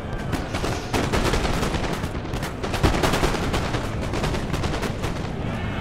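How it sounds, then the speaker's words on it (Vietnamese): Cannon artillery fires in a Napoleon Total War battle as dense, continuous volleys of booming shots and rattling gunfire overlap into a loud, sustained roar. "Rồi pháo của chúng ta cũng bắn rất tuyệt vời luôn"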